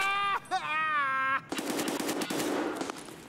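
Rapid full-auto gunfire from a weapon in the video game Escape from Tarkov, a burst of dense close shots following a short stretch of voices.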